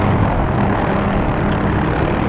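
An OH-6A police helicopter in the DCS flight simulator gives a dense, steady rotor and engine roar that fills the scene at constant loudness, with no talking over it.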